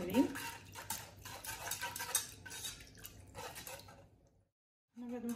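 Dessert ingredients with orange peel being mixed in a bowl: quick clinking and scraping strokes of a utensil, a short pause near the end, then a brief resumption.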